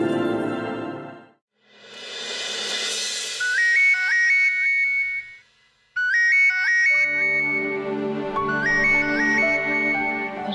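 A phone ringtone plays a repeating electronic melody loudly, with a brief gap before it starts again.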